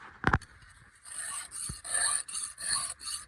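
Hand file rasping across chainsaw teeth in short, even strokes, roughly six passes close by, with a sharper knock or two before the filing begins.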